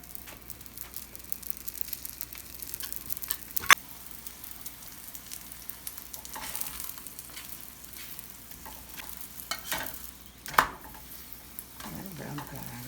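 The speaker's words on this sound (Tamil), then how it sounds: "புரோட்டாவை கல்லில் போடணும்." Egg parotta frying on a hot griddle at a street food stall in Coimbatore: a steady low sizzle with scattered clinks and scraping taps of a spatula against the iron surface.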